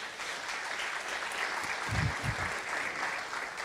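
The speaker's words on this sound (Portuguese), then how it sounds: "Aplaude a Deus, por isso aplaude." A church congregation applauds during a Portuguese-language sermon, a steady wash of clapping throughout with a few louder low thumps near the middle.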